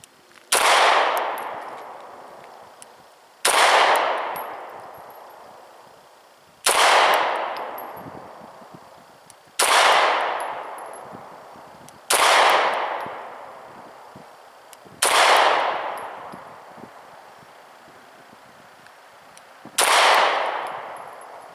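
Seven sharp pistol shots from a Sig 290RS 9mm, fired one at a time at a target five yards away, each loud crack followed by a short ringing decay, spaced roughly three seconds apart.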